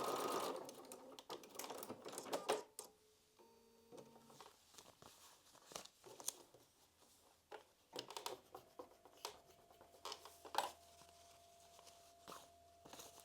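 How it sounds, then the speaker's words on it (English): A home sewing machine stitches a foundation paper-pieced butterfly quilt block in short bursts of quick running stitches, pausing between seams, with light handling clicks and rustles and no talking. "flip over and sew on that solid line"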